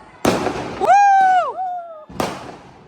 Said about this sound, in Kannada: ನೋಡಿ ಆಚೆ ಕಡೆ ಪಟಾಕಿ ಶುರು ಆಗಿದೆ